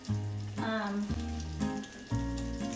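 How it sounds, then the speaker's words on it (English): Bread pieces frying in a pan for French onion soup give a steady close sizzle with soft crackling throughout, plus a few brief scrapes or shifts as the pieces settle. "You should hear a little sizzle"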